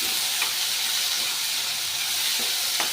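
Cluster beans (gavar) being stir-fried with salt in a pan give a steady, close hiss and sizzle throughout, with a few faint clicks of stirring and no talking.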